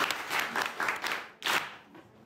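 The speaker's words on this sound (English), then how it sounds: "Clap for me." A short burst of hand clapping from a small group, two quick waves of applause with a brief pause between.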